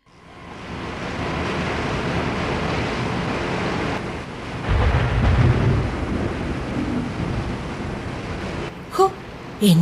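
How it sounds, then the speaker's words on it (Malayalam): Thunderstorm with heavy, steady rain staged for a radio drama, a continuous loud downpour roar with a deep rumbling thunder swell midway and a couple of sharp knocks near the end. "എന്തൊരു മഴയാ ഇത്."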